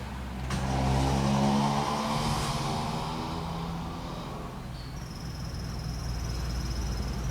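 A Toyota Corolla Bigbody with the 2E engine cranks, catches and revs up loudly up close, then settles into a steady, slightly lower running hum, with a faint high whine near the end.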